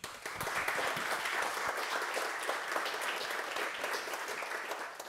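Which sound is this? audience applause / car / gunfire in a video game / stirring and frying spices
audience applause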